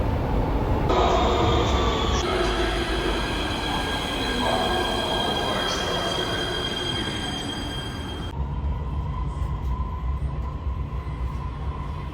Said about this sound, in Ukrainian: Сьогодні прокатаю вас на метро.